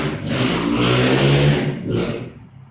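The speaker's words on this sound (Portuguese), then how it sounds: "Tá tendo corrida de motos aqui na rua, aparentemente." Motorcycles race along a street outside, their engines revving in a loud sustained roar that swells, dips and surges again before fading away, with no speech over it.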